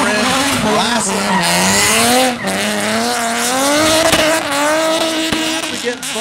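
A supercharged VQ-engined drift car at a 2010 Atlanta drift qualifying event revs hard on throttle, its engine note rising and falling continuously while tires squeal beneath, with a commentator talking over it.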